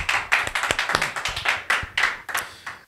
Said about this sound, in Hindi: एक अच्छी ताली